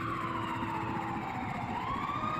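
An ambulance siren wails steadily, its pitch sliding slowly down and then back up, loud and continuous over a low engine rumble, at a train collision scene at a level crossing.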